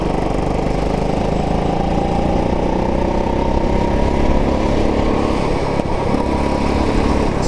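A go-kart engine runs flat out at the Picton Kart track, a steady loud buzzing drone held close and unbroken for several seconds with a brief blip near the end.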